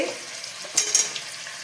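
Potato and papaya pieces dropped into hot spice paste in a pan, giving a short soft sizzle with a couple of quick splattering bursts, close and brief, without talk.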